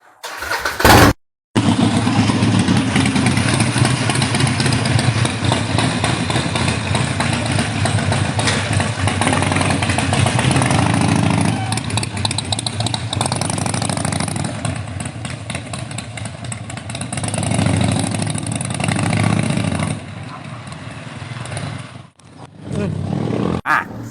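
A motorcycle fitted with a Fuelpak 3 tune and a stainless steel filter starts up and rides with a steady, loud engine drone that rises and falls over about twenty seconds, with a voice speaking briefly.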